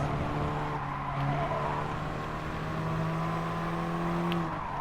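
A KTM X-Bow and a Ferrari F50 race in Gran Turismo Sport, their engines holding steady, droning tones that shift pitch slightly as the cars run together continuously.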